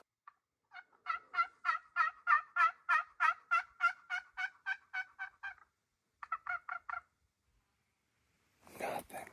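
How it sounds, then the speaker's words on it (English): A wild turkey gobbles across a desert canyon: a long run of rapid, rhythmic rattling notes, a short pause, then a shorter burst, clear but somewhat distant, ending with a brief rustling noise. "we just had a turkey gobble at us"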